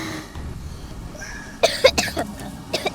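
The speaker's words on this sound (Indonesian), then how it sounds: "kamu batuk aja yang kenceng ya?" A few short, faint coughs at a distance, a couple together and then two more, over a quiet background murmur.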